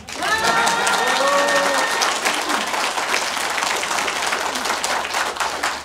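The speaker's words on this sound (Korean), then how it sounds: "박수 세게 치세요" An audience at a political talk show in Chuncheon claps loudly and continuously, with a brief voice over the start before the dense applause carries on alone.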